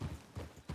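Horse hooves clip-clop slowly in a town in the Red Dead Redemption 2 video game, three soft, evenly spaced steps, faint and brief.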